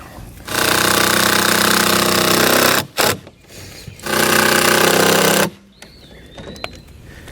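A power driver sinks screws to mount a Taylor Made dock float, two loud sustained whirring bursts of a couple of seconds each with a short pause between, followed by quieter handling clatter.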